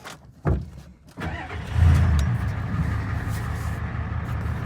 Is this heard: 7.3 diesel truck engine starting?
yes